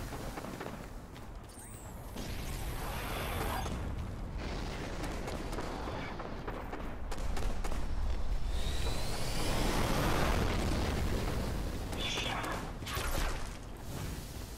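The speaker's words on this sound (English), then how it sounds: "Somebody shooting something big." A big weapon in Destiny fires with a deep, sustained rumbling roar, swelling into heavy blasts and sweeping whooshes that stay loud and dense for the whole stretch.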